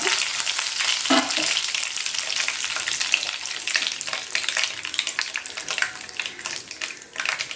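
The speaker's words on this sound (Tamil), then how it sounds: "எண்ணெய் காஞ்சிடுச்சு இப்போ நம்ம அதில் கடுகு போடணும்" Mustard seeds splutter and pop in hot oil as the tempering begins for a Tamil eggplant chops dish, a close, busy crackle of rapid irregular pops over a continuous frying hiss.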